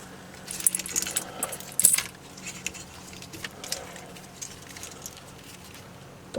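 Car keys jangle near an ignition switch in a garage as a battery is connected for the first time in two years, giving light metallic clinks and rattles in short clusters, close and moderately loud, with no voices.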